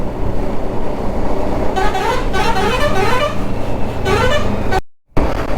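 Busy road traffic near a border checkpoint on the way from Assam toward Siliguri, with a steady engine rumble and a run of loud, repeated vehicle horn toots from buses and trucks, ending in a brief dropout.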